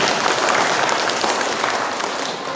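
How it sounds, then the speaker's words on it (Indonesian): An audience claps together in a sustained burst of applause at a village government gathering, steady, dense and loud from start to finish. "Tepuk tangan, jangan ragu-ragu."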